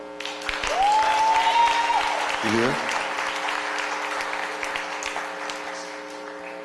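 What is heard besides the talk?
audience applause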